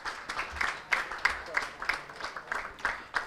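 Sparse, quiet applause from an audience at a white paper release event on border tourism, individual claps coming in irregular bursts rather than a full ovation, with a faint background murmur.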